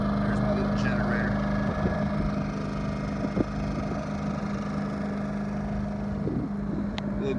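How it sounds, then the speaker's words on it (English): A small generator drones steadily aboard a boat, a close low hum with light wind buffeting and a few faint knocks. "There's my little generator."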